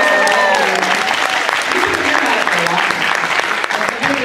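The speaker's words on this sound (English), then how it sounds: "Let's give her a round of applause." Loud, sustained applause from a convention panel audience, dense steady clapping with cheering voices mixed in, filling the room at close range throughout.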